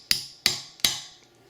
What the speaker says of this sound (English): Just need a hammer and just a punch.